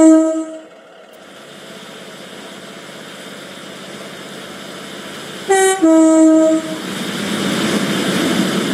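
A train arriving in the Roblox railway game Stepford County Railway sounds its horn twice, a loud harmonic blast at the start and another around the middle, over a rising rumble of the approaching train.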